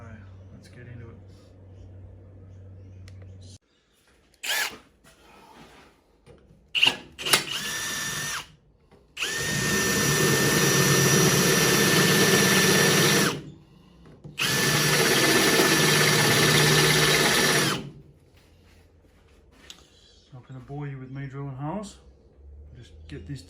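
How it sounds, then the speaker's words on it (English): A power drill bores bolt holes in metal parts of a slasher mower, with two long loud whining runs and several short bursts, with someone talking in the quieter stretches between. "got all the holes drilled out, bolts fit through"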